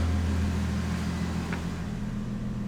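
Car air compressor running steadily as it pumps up tank pressure toward 150, a constant low motor drone and hum with no pauses.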